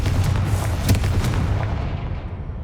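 The Confringo fire-blast spell goes off in the video game Hogwarts Legacy as a loud, booming explosion that fills the short moment with dense rumbling bursts.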